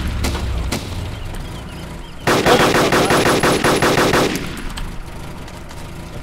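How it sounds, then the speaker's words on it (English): A sustained burst of rapid automatic gunfire in a survival shooter game rattles loudly for about two seconds amid background game ambience, with no talking. "Stop shooting."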